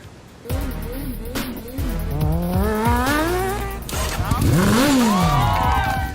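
A college-built race car engine revs and accelerates hard, rising whines sweeping up in pitch through several gear changes, loud and close, with voices and crowd murmur underneath.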